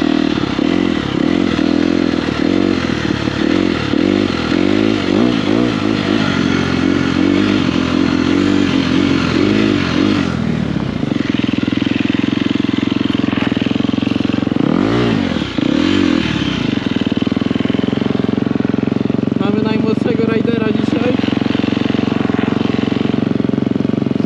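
Dirt bike engines roar loudly and continuously on a motocross track, with repeated revving and acceleration swells and some clatter, up close throughout, as riding starts in the rain.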